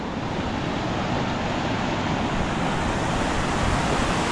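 Strong floodwater current rushes past close by in a flooded area, a loud unbroken broadband roar with no pauses.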